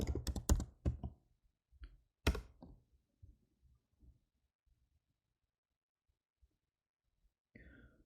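A short burst of typing on a computer keyboard for a Photoshop command: a quick run of loud, close clicks at the start, a second brief cluster a little later, then scattered faint taps trailing off into near silence.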